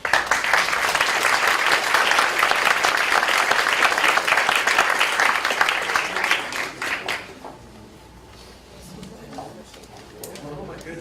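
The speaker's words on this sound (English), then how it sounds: "let's give one more round of applause for our experts" Audience applause for panel experts at a discussion panel, a dense burst of clapping for about seven seconds that fades out, followed by quieter room noise and faint voices.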